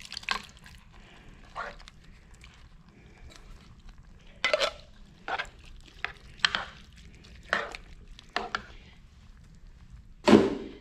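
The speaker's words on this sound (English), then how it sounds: "Then we're going to add the diced tomatoes with the green chilies." Canned diced tomatoes with green chilies being added and stirred into a pot of chili, heard as a series of separate wet plops, scrapes and clinks spread across the span, fairly quiet, with a louder knock at the end.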